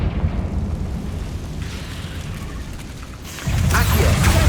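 Fiery Confringo spell blast in Hogwarts Legacy: a deep, rumbling explosive roar that swells into a louder, close burst near the end over a steady low background.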